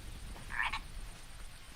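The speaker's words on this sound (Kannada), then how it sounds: "ಕಪ್ಪೆಗಳ ಮತ್ತು ಕೀಟಗಳ ಶಬ್ದ ಬಿಟ್ಟರೆ ಬೇರೇನೂ ಕೇಳಿಸುತ್ತಿಲ್ಲ" A frog gives a short, close croak in a single brief burst on a rainy night beside a road through dense forest, with a quiet background before and after.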